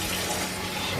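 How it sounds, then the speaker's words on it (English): Scalding hot water runs from a kitchen sink tap in a steady, dense rush, close and continuous, with no talking. "be careful with your sink, because our sink, we achieve scalding hot water in seconds."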